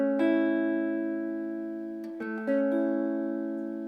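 Electric guitar triad sustaining cleanly, then one note bent slightly upward and released so the chord shifts subtly in pitch mid-ring; close, alone, no talk.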